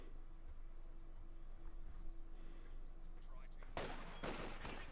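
A burst of gunfire in a Company of Heroes 2 match, Soviet forces against the German OKW, with penal troops in action. It erupts near the end as a dense, loud crackle after quieter battlefield ambience, with commentary running over it.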